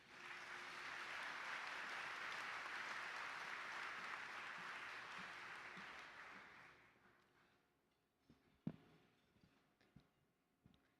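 A school audience applauds as an education award winner walks onto the stage, the steady clapping filling the room for about seven seconds before fading out into quiet scattered noises.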